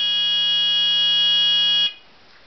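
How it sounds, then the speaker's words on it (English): A steady, harsh electronic engine warning buzzer, wired into a Toyota 1UZ-FE V8 wiring loom, sounds loudly for nearly two seconds, then cuts off abruptly, leaving faint background hiss. "So instead I put a buzzer like that"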